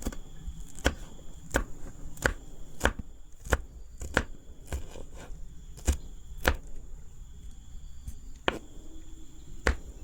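Chillies chopped with a knife on a board for homemade atta chowmein: sharp, evenly spaced knocks, close and distinct, over a faint steady background hum.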